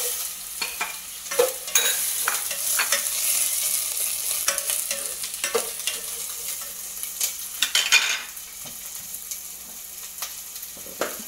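Chopped onions sizzle steadily in melted butter in a pan while making butter chicken, with a constant close frying hiss and repeated scraping stirs of a utensil, and no one talking.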